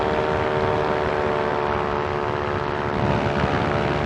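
An ultralight aircraft's engine and propeller drone steadily in flight near cruising throttle, a loud, continuous, even roar with a fixed harmonic whine throughout.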